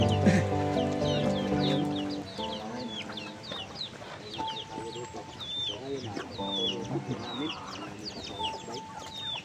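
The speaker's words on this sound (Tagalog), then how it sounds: "ang daming manok bro" A flock of chickens around a rural house clucks and chatters nearby, with a rooster's harsh crow-like calls mixed in and small birds chirping overhead. Voices murmur faintly in the background.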